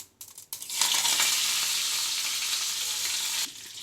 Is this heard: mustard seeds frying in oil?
yes